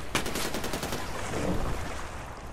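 A video game gun fires at a fish during a croc hunt. A rapid burst of shots crackles near the start, then a noisy, rumbling background carries on.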